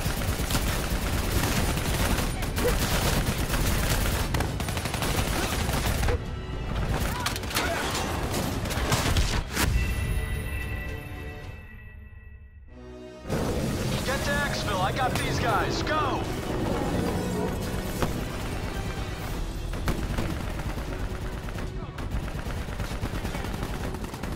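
Call of Duty 4: Modern Warfare gunfire crackles in dense, loud bursts and rapid fusillades, layered with shouted voices and battle noise. A short lull comes midway before the shooting resumes.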